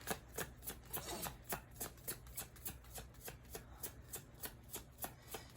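Tarot cards are shuffled and handled to draw another card, giving a steady run of quick, crisp riffling flicks close up, repeating rhythmically throughout with no talking.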